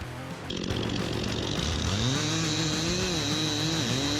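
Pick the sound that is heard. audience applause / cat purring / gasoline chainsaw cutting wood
gasoline chainsaw cutting wood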